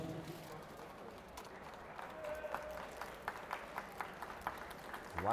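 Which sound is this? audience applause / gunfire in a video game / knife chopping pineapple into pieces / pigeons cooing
audience applause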